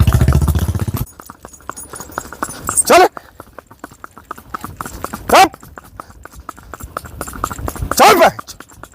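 Hooves of a Sindhi mare clip-clop in a quick, steady walking rhythm close by, while a man calls out urging her on, with a few louder bursts of his voice over the hoofbeats.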